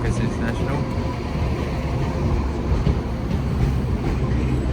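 East Midlands Railway train from St Pancras International terminating at Sheffield station, a loud rumbling diesel drone with faint rail noise filling the platform, with a voice talking over it.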